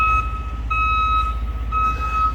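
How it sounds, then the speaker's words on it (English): Steady reversing beeps repeat in a regular pulse over a heavy low rumble of machinery at a construction site. "They're doing construction over here."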